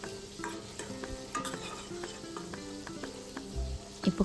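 Onions and green chilies sizzling in a pan as they are stir-fried, a steady close crackle with scraping stirs and light clinks of the spatula throughout, no talking.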